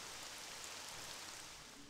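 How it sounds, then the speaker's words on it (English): Steady, hissing rain from an RPG Maker horror game fills the whole stretch as a dense, even wash with no distinct drops, fairly loud and unbroken, with no talking over it. "I think the rain sound stops soon and replaced with other music."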